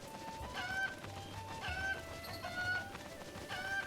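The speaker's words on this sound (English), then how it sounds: "Look at all those chickens." Chickens cluck repeatedly in The Legend of Zelda: Breath of the Wild, a flock of in-game fowl giving short, bright, rhythmic clucks over a steady low ambient bed, moderately loud and close.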